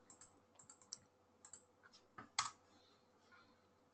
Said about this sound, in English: So I'm just going to type that in there.